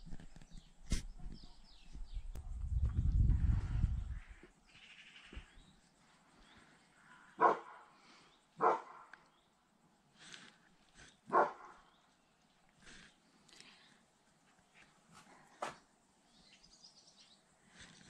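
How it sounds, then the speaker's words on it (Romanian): A dog in a rural yard gives scattered sharp barks at a distance, fairly faint, spaced several seconds apart over a quiet outdoor background with a brief low rumble early on. "la fiecare zgomot începe și latră"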